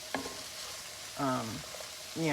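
Carrots going into a pan for chicken pot pie, a soft steady sizzle with several scraping stirs against the pan, close and moderately quiet.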